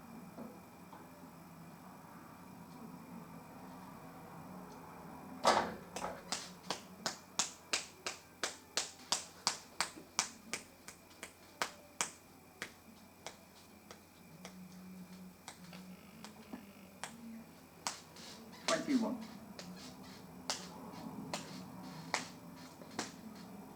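Fingers snap in a long, steady run of sharp, dry clicks, quick and regular at first and then sparser and irregular, close to the microphone over quiet room tone.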